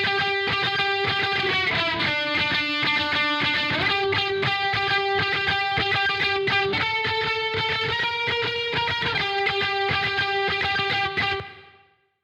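A distorted electric lead guitar plays a sustained melody with octave doubling, dense and loud, ringing out alone before cutting off at the end.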